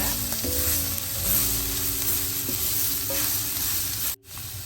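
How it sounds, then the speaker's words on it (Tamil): Boiled long beans stir-fried with turmeric in a pan give a steady, close crackling sizzle and stirring scrapes, briefly cutting out near the end before resuming. "இதோட மஞ்சள் தூளும் சேர்ப்போம். சேர்த்துட்டு எல்லாத்தையும் நல்லா கலந்து விடுவோம்."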